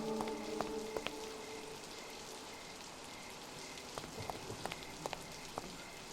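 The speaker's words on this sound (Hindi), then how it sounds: "एकदम घमासान बारिश हो रहा है।" Steady hissing rain pours continuously, with occasional sharper drips and taps standing out, fairly faint and without voices.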